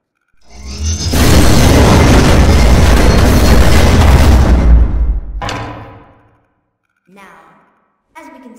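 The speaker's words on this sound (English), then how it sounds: "Let's test out the minigun." A laser minigun in the video game Rec Room fires one long, loud, roaring burst that swells and holds steady for several seconds before cutting off, followed by a couple of short, quieter bursts.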